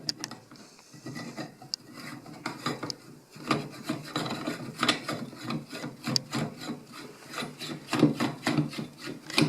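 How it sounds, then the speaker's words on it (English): A silencer is screwed onto an LCT SR3M airsoft rifle, giving close, repeated metallic rasping and grinding in short twisting strokes that speed up toward the end, with no talking. "So to put the silencer on, you just screw it on the socket."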